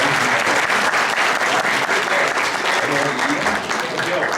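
Steady, dense applause from a live audience at a suicide-prevention panel event, honouring a guest musician's special performance; continuous clapping fills the whole stretch at close range, with no break.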